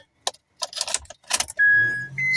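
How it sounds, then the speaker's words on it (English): A key jingles and clicks into the ignition of a Honda Ridgeline as it is switched on, and a sustained electronic tone and a hum follow from the dashboard. "turn the ignition on"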